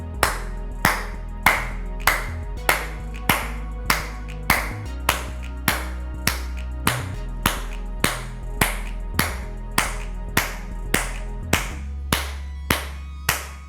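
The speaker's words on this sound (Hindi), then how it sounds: "30 सेकेंड्स तालियां बजाइए खूब ज़ोर से, जितनी ज़ोर से आप बजा सकते हैं उतनी ज़ोर से बजाइए" Hard, loud hand claps done as a fitness exercise, one person striking palms and fingers together in a steady, even rhythm of roughly two claps per second, close and dry with no talking.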